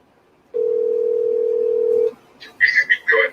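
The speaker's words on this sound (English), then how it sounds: "you're making a phone call." A steady telephone dial tone sounds for about a second and a half while a call is placed. It is loud and continuous, then cuts off, and voices follow.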